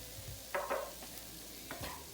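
Mushrooms seasoned with salt, ground black pepper, dried herbs and khmeli-suneli fry in a pan with a soft, low sizzle, broken by a few stirring scrapes.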